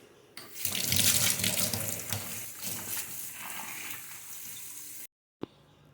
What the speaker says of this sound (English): We are washing our fruits.